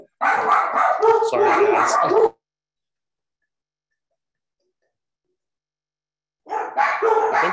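Dogs bark in loud, rapid bursts for about two seconds at an inflatable snowman in a front yard, then go quiet before another short round of barking resumes; a person speaks briefly over the noise.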